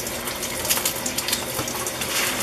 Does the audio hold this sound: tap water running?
yes